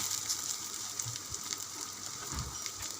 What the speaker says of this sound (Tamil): இப்போ ஆனியன் ஆட் பண்ணிக்கலாம். இப்போ அதை நல்லா வதக்கிக்கலாம்.